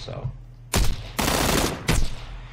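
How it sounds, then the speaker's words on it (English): Gunfire in the PUBG video game, heard as loud, dense bursts of shots in three clusters, with a short pause and then a longer sustained volley between them. "So, I'm getting shot at"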